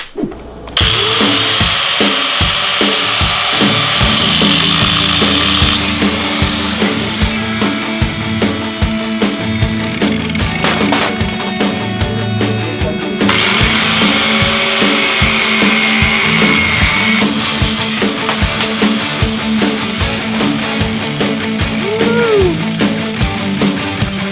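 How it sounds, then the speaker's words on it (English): Power tool cutting through the fork tubes of a Monster Moto 212 minibike, a loud continuous grinding whine that holds steady for the whole stretch with shifts in pitch as the blade bites, no talking. "So we're going to get this off. Great. And start cutting."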